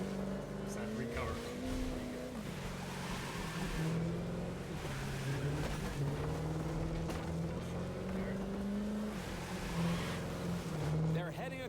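In The Crew 2 racing game, modern race cars thunder across an antique covered bridge, making loud, continuous engine drones that rise and fall in pitch as they accelerate, with a commentator talking over them.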